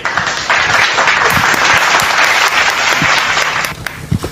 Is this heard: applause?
yes